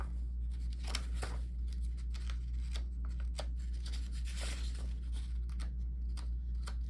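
Comic book pages, stuck together, being pried apart with dry papery rustles, crinkles and sharp short rips in an irregular run, heard close over a steady low hum.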